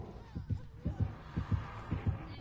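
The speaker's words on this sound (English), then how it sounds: "I ain't moving until that fucking heartbeat goes away." Heartbeat sound effect from a video game, a steady double-thump pulse repeating about every half second, low and throbbing under faint background hum.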